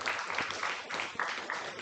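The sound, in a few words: audience clapping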